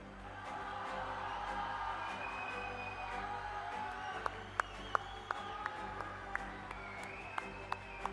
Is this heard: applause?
yes